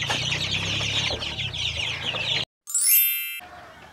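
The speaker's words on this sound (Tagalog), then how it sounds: "Mao ni mga manuka atong gigrow og mangitlog po ni sila" Backyard egg-laying chickens on a farm in Cebu clucking and chattering together in a dense close chorus, cut off abruptly by a brief bright chime-like ding.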